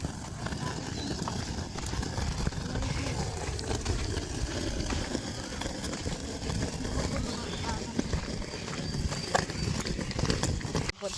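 Horse hooves clip-clop steadily along as a cart is pulled, a continuous rhythmic clatter over a dense bed of road and wheel noise, with voices talking faintly in the background.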